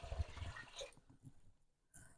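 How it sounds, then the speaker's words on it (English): Water poured into a cooking pot for oven-baked chicken risotto, a close splashing gush that fades to a light trickle and ends with a short final splash. "We'll just put the water in it now."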